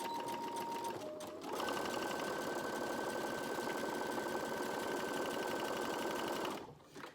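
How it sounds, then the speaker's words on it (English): A sewing machine runs a continuous back-stitch along a youth gaiter seam, a short stutter at first, then a long, even, humming drive that cuts off abruptly near the end. "I'm going to do a back stitch, and then we're going to go all the way around"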